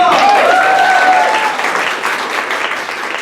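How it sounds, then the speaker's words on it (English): Audience applause for improv performers at a class comedy show, loud close clapping from a small crowd that begins at full strength and tapers slightly over a few seconds, with a brief tonal whistle-like sound near the start. "And give them a round of applause!"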